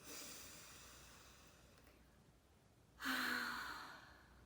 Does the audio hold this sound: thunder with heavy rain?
no